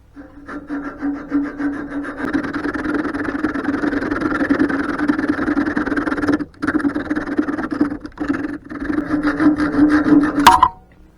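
Close rasping cut through a small nub on a handmade hand line hobo reel, a steady scraping stroke that runs for several seconds, pauses briefly twice, then ends with a sharp snap.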